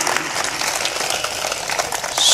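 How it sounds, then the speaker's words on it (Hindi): Audience applause at a spoken devotional discourse: dense, steady clapping from a crowd that continues throughout and swells louder near the end. "हाँ, ताली ताली ताली ताली।"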